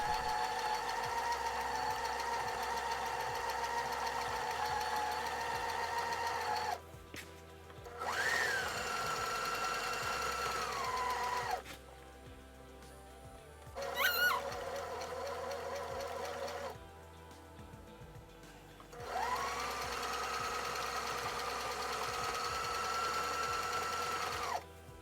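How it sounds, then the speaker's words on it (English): A sewing machine stitches a t-shirt in rapid, even buzzing runs of several seconds each, stopping and restarting a few times, close and clear in a quiet room. "So I'm just gonna sew the top parts of the cutout, not the curve."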